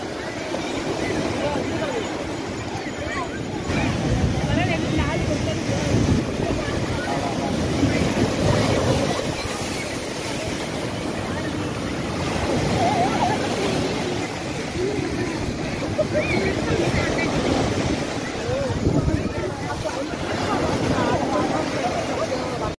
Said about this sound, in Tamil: அலை வந்துருச்சு.